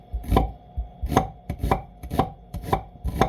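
Knife chopping onions on a board, about seven quick separate bursts of cuts in an uneven rhythm, close and fairly clear with no talking.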